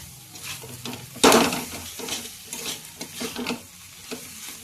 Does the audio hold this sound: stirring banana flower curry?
yes